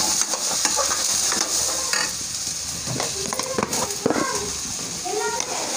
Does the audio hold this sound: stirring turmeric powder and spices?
yes